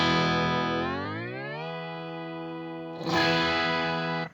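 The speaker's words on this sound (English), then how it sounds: "let's go ahead and turn on that chord whammy" An electric guitar chord through a HeadRush Chord Whammy pedal, its pitch sliding smoothly downward and holding, then a fresh strum jumps back up bright and loud before cutting off, with no voices.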